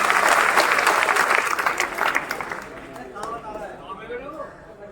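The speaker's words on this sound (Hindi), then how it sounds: "एक बार इन बच्चों के लिए जोरदार तालियां हो जाए।" Audience at a school event applauding students who won places in a competition, a dense burst of loud clapping that thins out and fades over several seconds while voices chatter underneath.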